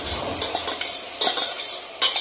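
Mixed vegetables — potatoes, cauliflower, eggplant, cabbage and peas — go into a pan for pav bhaji, with close, repeated scraping and stirring clatter over a faint sizzle and no talk.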